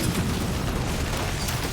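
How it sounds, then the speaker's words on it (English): A massive explosion in a movie scene gives a short, dense, low rumbling boom that fills the whole moment with no voices. "After a massive explosion,"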